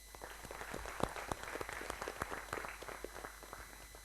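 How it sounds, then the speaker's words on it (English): Audience applause for the sponsors at an investor-awareness money seminar, quiet but clear, with distinct individual claps forming an uneven, scattered round across the hall. "May I request you all to give a big round of applause to all the sponsors."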